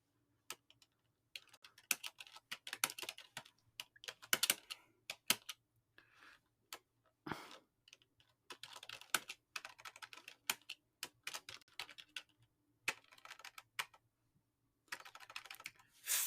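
Keys clatter on a computer keyboard while writing in the Ghost editor, bursts of quick close taps separated by short pauses, quiet and without speech.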